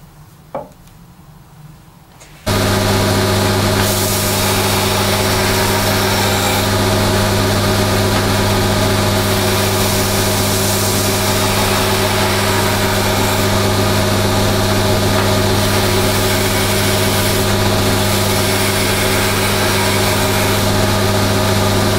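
Belt grinder grinding a knife blade, a loud continuous motor hum and abrasive roar that starts abruptly after a quiet moment and holds steady to the end.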